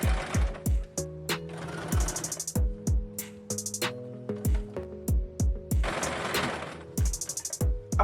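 Domestic sewing machine stitching a gathered frill for the back of a dressmaking skirt, running in short repeated bursts of rapid mechanical stitching with brief pauses and clicks between runs, close and fairly loud.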